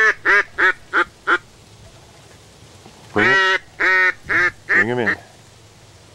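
Mallard ducks quacking near decoys on a duck hunt: a run of five short evenly spaced quacks, then longer, louder raspy calls, with someone speaking briefly.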